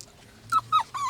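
Dogs whimper in three short high whines, close and fairly quiet, with a faint low hum underneath and no talking.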